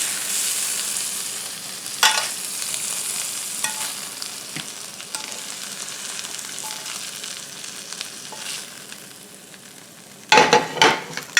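Venison tenderloin sizzles and fries in a pan with a steady close hiss, a few light utensil clicks, and a louder clatter of the pan near the end.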